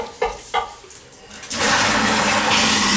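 Flush of an old toilet that leaks water onto the floor, starting with a couple of handle clunks before a loud, sustained rushing of water that fills the rest.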